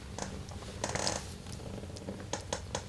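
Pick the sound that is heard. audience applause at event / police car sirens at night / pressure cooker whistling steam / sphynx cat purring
sphynx cat purring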